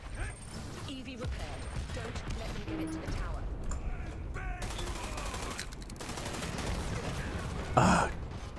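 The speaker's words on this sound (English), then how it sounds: "Damn that airstrike." Airstrike explosions and gunfire in the video game Dirty Bomb: bursts of rapid shots and mechanical clatter over a continuous busy game mix, with a sharp louder blast near the end and a voice sighing or breathing at times.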